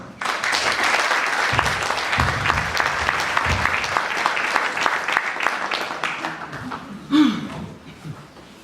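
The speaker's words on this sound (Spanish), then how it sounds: "la conferencia del doctor Marcelo Arnold, para quien pedimos un caluroso aplauso." An audience at a Latin American sociology congress gives a conference speaker loud, sustained applause, the clapping dense and steady before thinning out, with a brief voice near the end.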